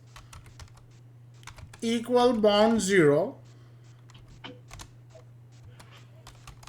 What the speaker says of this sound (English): So start typing with me.